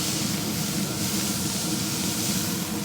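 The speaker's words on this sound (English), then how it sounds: "I'm gonna go ahead and give them a spritz." Pork ribs on a pellet grill get a spritz, a steady close hiss of spray that holds evenly for about three seconds with no voices over it.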